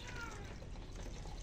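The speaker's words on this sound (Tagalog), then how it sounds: "Bubuan tayo nini tubig" Water is poured steadily into a container, a continuous close, faint splashing and filling sound without a break.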